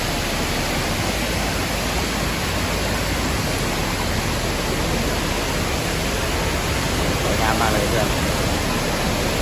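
The Kroeng Krawia waterfall in Thailand roars as a dense, steady rush of water, loud and constant throughout, with a voice faintly buried in the noise.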